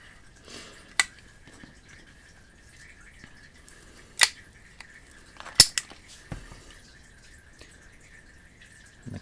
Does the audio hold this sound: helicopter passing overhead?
no